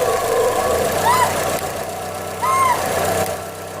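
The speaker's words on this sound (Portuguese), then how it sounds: "Eu vou tentar diminuir aqui a rotação do motor, colocar a mão no corpo de borboleta aqui," A Chevrolet Classic 1.0 VHC-E engine idling with the throttle body partly covered by hand to lower the revs, giving a steady close-up rumble with two brief whining swells in the middle.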